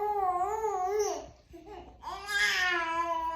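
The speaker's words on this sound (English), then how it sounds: "You hear my kids." Young children babble and coo in sing-song vocal bursts close by, the voices rising and falling with a short break midway and then a brighter, higher stretch.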